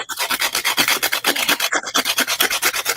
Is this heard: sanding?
yes